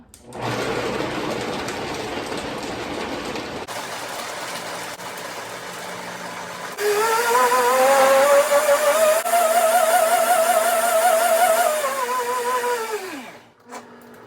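A blender motor blending vegan Alfredo sauce with raw garlic whirs steadily on low speed, shifts to a louder, higher whine partway through, then winds down and stops.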